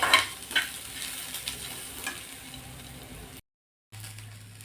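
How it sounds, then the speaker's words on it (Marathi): Onion frying in a pan for a shenga bean curry, a soft steady sizzle with a few clinking stirs early on, then a short silent gap before a low hum resumes; no speech. "कांदा थोडासा भाजत आलेला आहे"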